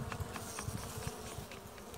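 Dense, steady buzzing of many honeybees at an open hive, close by, with slight flutters in loudness and no voices.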